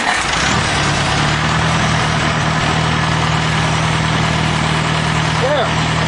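A Farmall Cub tractor engine starts with a brief crank, then settles into a steady, loud, close idle that runs to the end.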